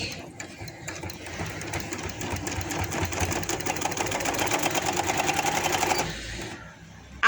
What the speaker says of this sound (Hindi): अब इस तरह से फोल्ड करते हुए मैं इसे एक पैर बहे की सिलाई लगाती जाऊंगी।